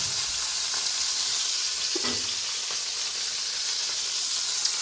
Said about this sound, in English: wait a couple more minutes to let these burgers cook